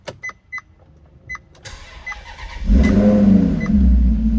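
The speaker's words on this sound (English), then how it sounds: "This is a cold start." A 2015 Maserati MC Centennial cold starts: a few soft clicks and chimes, then the engine fires and holds a loud, deep, steady rumble at close range.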